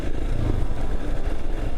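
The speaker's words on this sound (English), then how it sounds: "Sound of your motorcycle thumping away, especially the single cylinder." A single-cylinder motorcycle engine thumps steadily and loudly up close, a constant low drone with a rough, pulsing texture and no voices.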